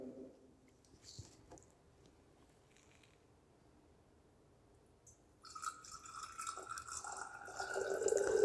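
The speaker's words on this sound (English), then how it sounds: "we will be adding water in this empty pycnometer" Water is poured into an empty glass pycnometer in a soil specific-gravity lab test; after a quiet stretch with faint drips, a steady splashing pour rises and grows louder toward the end.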